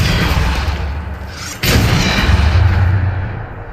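A Depulso force spell cast in Hogwarts Legacy lands as one loud, sharp burst midway, with a rushing whoosh before it and a rumbling blast after, over busy game sound with no talking.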